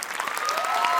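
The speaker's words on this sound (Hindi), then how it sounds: "उनके लिए जरा जोरदार तालियां।" Audience at an Indian mythology-themed dance academy annual show breaking into dense, steady clapping, close and sustained for the whole short moment.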